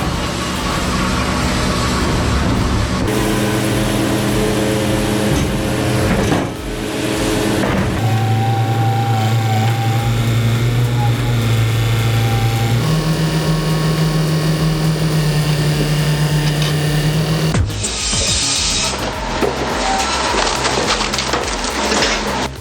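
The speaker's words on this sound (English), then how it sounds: "You'll see and hear the machine in real time as it turns white pine into 8x8 beams." An LT70 sawmill cuts white pine into 8x8 beams, giving a loud, continuous motor drone with a steady tonal whine that shifts pitch as the feed changes, punctuated by harsher saw-and-wood noise toward the end.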